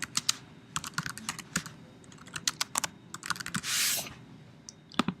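Rapid typing on a computer keyboard while entering directions for a Blackboard discussion board, with irregular bursts of crisp key clicks and brief pauses across five seconds, up close and alone.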